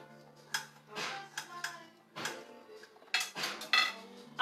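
A kitchen knife dices butternut squash on a cutting board in a series of irregular, close, fairly soft knocks and taps, with brief pauses between the cuts.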